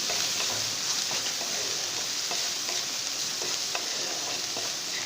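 White chickpeas frying with spices in a pan, a steady, dense sizzle with faint stirring scrapes throughout, no voices.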